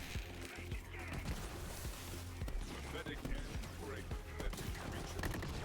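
Rapid gunfire from the video game Borderlands 3 rattles in dense bursts under a busy mix of game effects and music, with players talking over the action.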